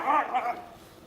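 Dogs kept together with a young lion cub give a short, fairly faint yelping bark followed by a soft whimper, heard briefly and close.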